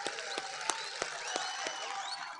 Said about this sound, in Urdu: تو ایک تالی تو بنتی ہے گیلانی صاحب کے لیے